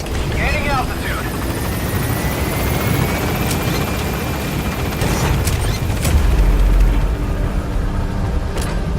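Pequod, the support helicopter in Metal Gear Solid V, gains altitude over a landing zone with a loud, steady rotor roar and engine drone that stay close and continuous, while thuds and rumbles swell near the end.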